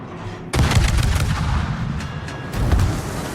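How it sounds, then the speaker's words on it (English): Heavy naval gun salvos from a warship in World of Warships: two loud booming blasts with rumbling tails, the first kicking in sharply after a short lull, the second about two seconds later, close and dominant. "use the main guns to finish them off"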